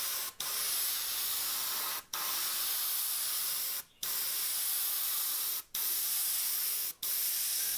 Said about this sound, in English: And notice I'm pointing the airbrush away from our face.